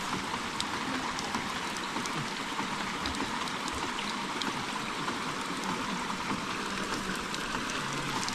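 Water gushes steadily from the outlet pipe of a ram pump, a continuous splashing, hissing rush heard close up without a break.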